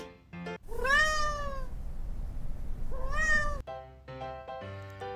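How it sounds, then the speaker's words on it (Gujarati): Two drawn-out cat meows, each rising then falling, separated by a short pause, with brief tonal sounds at the start and end. "कैट એટલે બિલાડી"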